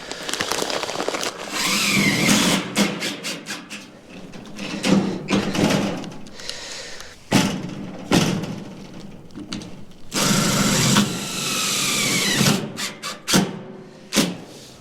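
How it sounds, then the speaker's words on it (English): A power drill with a resharpened bit whines in repeated bursts as it bites through sheet metal for barn doors, with sharp clanks and pauses between runs, close and loud. "My MacGyver sharpened drill bit's doing well"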